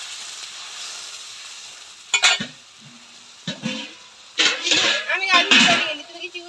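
Spiced water poured into a hot pan for a thin catla fish curry, bursts of loud hissing sizzle in several separate surges, with a voice talking between them.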